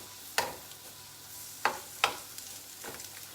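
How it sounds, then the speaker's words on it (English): Eggs cooking in a pan during kitchen food prep, a soft steady sizzle broken by four sharp clicks or taps of a utensil, close and fairly quiet. "the eggs are cooking away there"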